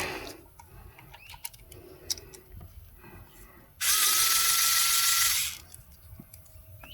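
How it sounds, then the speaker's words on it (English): A rechargeable Vessel micro ratchet wrench, used on a Ford F-250 7.3L diesel during injector cup replacement, whirs in one sharp, buzzing burst of under two seconds between quiet ticks and handling noise. "Vessel micro ratchet or whatever they call it. Rechargeable mini wrench is what it says."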